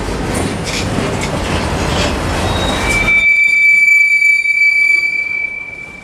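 Freight locomotives 188 and 116 rumble loudly while backing up, and a piercing high wheel squeal rises and holds over the rolling noise near the track.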